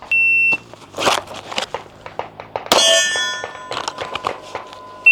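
Sharp metallic clangs and pings from pistol rounds striking steel targets at an outdoor shooting range, a handful of bright impacts spread over several seconds with electronic beeps from a shot timer.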